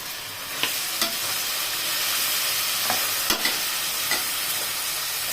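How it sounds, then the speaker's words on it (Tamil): Ginger and garlic, then mint, sauté in a pan for chicken white biryani, making a continuous close frying sizzle broken by several sharp spoon knocks and stirring clinks, with no voices. "ஒரு நிமிஷம் நல்லா இஞ்சியும் பூண்டும் வதங்கட்டோம்ப்பா"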